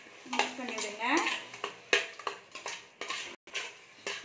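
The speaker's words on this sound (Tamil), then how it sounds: "தயிர் ஆட் பண்ணி நல்லா இந்த மாதிரி மிக்ஸ் பண்ணிவிடுங்க" Egg biryani in a pot as a cup of yogurt is mixed in, with uneven clinks and scrapes of a spoon against the pot, and a brief tonal squeak among the clatter, no talk.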